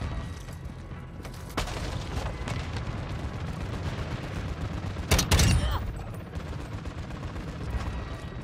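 Semi-automatic gunfire in a first-person shooter game, scattered shots over a constant rumble of battle noise, with one louder burst near the end.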